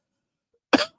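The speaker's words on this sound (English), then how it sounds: "Sorry for the coughing, you guys." A single short, harsh cough from someone feeling under the weather, close and loud, following a moment of silence.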